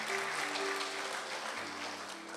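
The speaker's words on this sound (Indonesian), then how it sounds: "Yang percaya berikan tepuk tangan untuk Tuhan." A church congregation claps during a sermon, a soft, distant-sounding wash of applause over sustained tones from an organ or keyboard.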